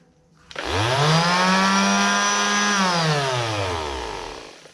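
An Einhell orbital sander, just repaired after its shoe came undone, switches on, spins up to a steady loud whine for a few seconds, then winds down as it is switched off.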